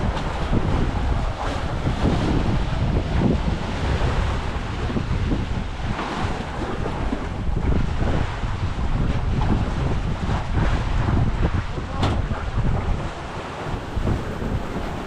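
Rough sea aboard a boat, with loud, continuous wind buffeting the microphone over surging waves and rushing water that keeps steady for the whole stretch, with no voices.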